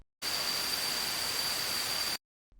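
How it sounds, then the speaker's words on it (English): Steady hiss of white noise with a thin, high ringing tone running through it, starting abruptly and cutting off after about two seconds. "if we take the same white noise with the resonance still in there and we listen to it"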